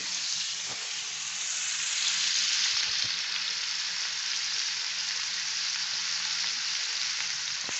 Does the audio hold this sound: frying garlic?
yes